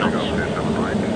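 Concorde's jet engines roar steadily during the takeoff climb as heard from inside the cockpit, a broad continuous rush under constant crew radio and callout chatter.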